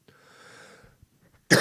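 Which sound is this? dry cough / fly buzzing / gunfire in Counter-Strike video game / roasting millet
dry cough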